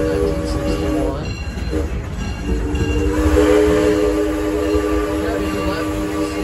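A small amusement park train at Six Flags Over Texas rumbles along with a continuous mechanical drone and sustained whistle-like tones, while a voice talks over it nearby.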